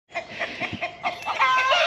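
A hen clucks up close in a quick run of short, choppy calls that rise into a longer, higher squawk at the end, loud and alone without talk.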